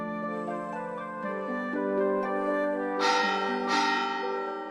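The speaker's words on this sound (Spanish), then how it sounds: "¿Oís el sonido de las campanas?" Monastery church bells ring at a steady, moderate level with layered ringing tones, and two brighter strikes stand out near the end. No voices are heard.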